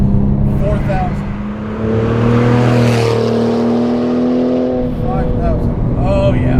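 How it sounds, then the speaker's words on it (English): A 2007 Porsche 997.1 Turbo fitted with a Speedtech 3-inch exhaust pulls hard under acceleration, its loud engine note climbing steadily through the revs with a brief blow-off hiss, while people talk inside the cabin over the drone. "It makes a nice noise with the exhaust."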